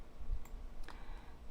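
Soft computer mouse clicks sound close and faint, a few quick separate taps while dragging guides in Illustrator, with no talk.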